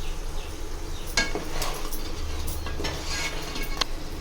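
Crab masala stirred in a hot pan, a soft continuous sizzle with repeated scraping strokes of the spoon against the pan.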